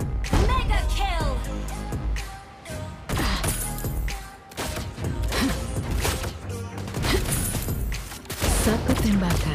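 Sniper fire from the hero Lesley in the Mobile Legends video game bursts out in sharp, loud shots and impacts, mixed with busy game effects, music and in-game voice lines throughout.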